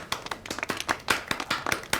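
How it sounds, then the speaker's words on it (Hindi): A group of people clapping in an office setting, a short burst of loose, uneven hand claps that rise and fall, fairly close, with no talk over it. "जोरदार तालियां हो जाए"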